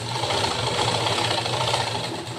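A sewing machine running steadily while stitching a lined blouse, a continuous close mechanical whir with rapid rhythmic needle clatter, no voices.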